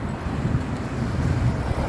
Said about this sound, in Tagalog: Mahangin-hangin naman.